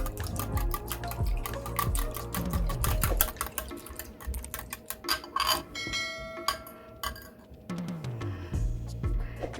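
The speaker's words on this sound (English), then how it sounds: "It still needs a bit more whisking." Pancake batter is whisked in a bowl, giving rapid, close metallic ticking strokes that run almost continuously with a few brief pauses and no talking.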